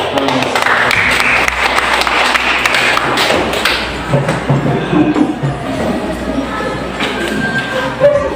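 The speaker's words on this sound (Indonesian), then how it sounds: "kita berikan tepuk tangan" Students in a classroom applaud after group presentations, a burst of clapping that is loudest at the start and thins out into scattered claps, thuds and shuffling over several seconds.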